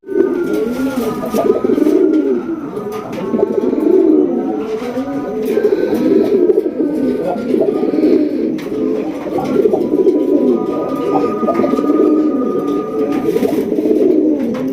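A large pair of red pigeons coo continuously and close by, their deep repeated calls rolling over one another without pause.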